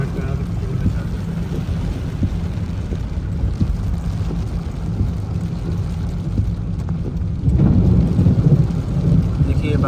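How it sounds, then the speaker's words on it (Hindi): Thunder rumbling during rain in Makkah, a low continuous roll under steady rain noise that swells louder toward the end, with no voices. "देखिए बादल भी गरजने लगे"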